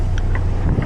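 Strong wind gusting at an outdoor residential jobsite, a steady low roar buffeting the microphone throughout, with faint higher tones flickering above it.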